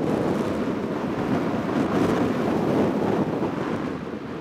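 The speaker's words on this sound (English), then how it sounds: "Really windy out, about 25 mile an hour winds." Strong wind of about 25 mph buffets the microphone in a steady, loud roar that lasts throughout, with no voices beneath it.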